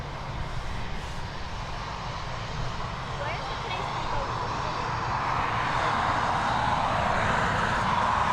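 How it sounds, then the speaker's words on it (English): A NetJets Bombardier Global 6000 business jet at Dublin Airport produces a loud, steady engine roar that builds slightly and holds throughout, with a voice talking faintly beneath it. "Next up, we've got one of NetJet's fleet of this Bombardier Global 6000. Heading over to Luton."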